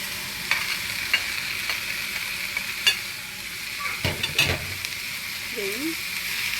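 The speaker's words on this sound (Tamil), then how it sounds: "நல்லா வதங்கட்டும், நல்லா சோஸ் ஆகட்டும்." Chopped tomatoes sautéing in oil for a shrimp gravy, a steady close sizzle with occasional taps and scraping from stirring, a brief murmur of voice near the end.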